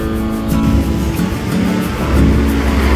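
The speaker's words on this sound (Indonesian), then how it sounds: "rame nih bis-bis yang datang" Bus engines rumble and rev as buses pull into a busy terminal, a steady, loud low drone with rising acceleration near the end, no speech.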